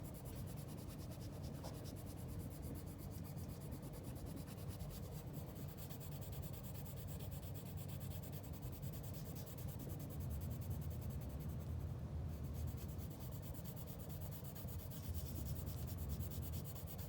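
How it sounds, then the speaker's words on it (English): Colored pencil shading softly on paper for a portrait drawing, in overlapping strokes: a steady, close, continuous scratchy rubbing with no pauses and no voices. "I'm just using the color pencil softly. And I just keep overlapping it until I get the darkness that I like."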